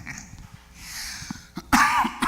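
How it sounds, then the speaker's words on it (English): Several harsh coughs erupt on a live talk show set, loud and close, with a burst of throat-clearing in quick succession near the end and no words spoken. "I do apologize for the coughing on set on a live program"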